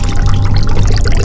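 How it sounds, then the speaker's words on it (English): Gunk is poured out of a MrBeast Lab Swarm Alpha tube, a loud, steady, close-up sloshing pour that runs through the whole moment. "It's time to pour out the gunk."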